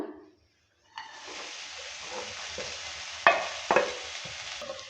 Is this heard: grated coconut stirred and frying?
yes